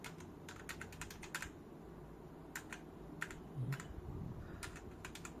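A Bluetooth 2.4GHz mechanical keyboard clacks in irregular bursts of quick keystrokes, crisp and close, with short pauses between runs over quiet background hum.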